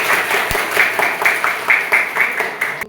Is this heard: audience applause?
yes